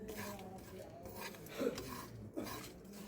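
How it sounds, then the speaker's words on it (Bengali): Homemade dry chaat masala spices being stirred in a pan over medium heat, heard as soft scraping and rubbing with a couple of louder utensil knocks against the pan, quiet and close. "ফ্লেভারটা আসা পর্যন্ত আমাদের এটা নাড়তে হবে"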